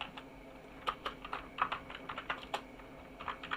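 Computer keyboard typing while entering address details into a form during a computer fundamentals practical exam: quick irregular clusters of soft key clicks, fairly close, with no talk.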